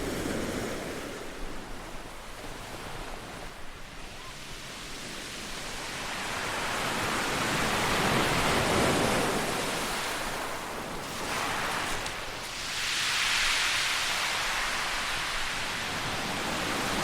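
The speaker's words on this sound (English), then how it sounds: "I could listen to the sea for a very long time." Sea waves wash onto the shore at Brighton in a steady, broad roar, with swells rising and falling and some wind across the microphone; no voices.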